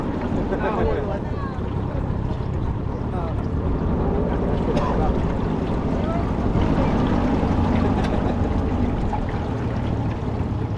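A boat ride on the Mahaica River in Guyana, with a steady engine drone, water rush and buffeting wind noise continuing throughout at close range.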